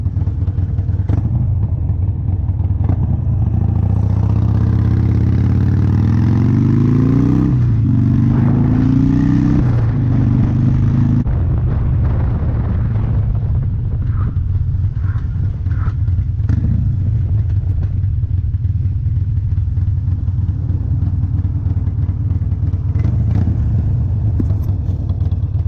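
A Harley-Davidson Sportster motorcycle engine runs loud and close, a steady throbbing rumble with rising and falling revs early on, then settling into a rough idle with occasional clatter.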